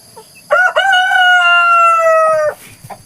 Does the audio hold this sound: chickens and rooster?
yes